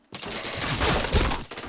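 Rapid automatic gunfire from the shooter game Point Blank crackles in a dense, loud burst that starts abruptly and continues without pause.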